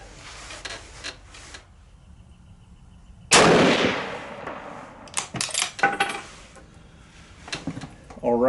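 Rifle shots fired downrange at a 100-yard range, comparing a K98k, No4 Mk II and M44: one sharp, loud report at mid-clip rings out, followed by several smaller bangs, with quiet background noise between.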